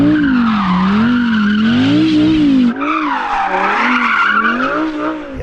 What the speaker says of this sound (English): Why don't you go and warm up your tyres now?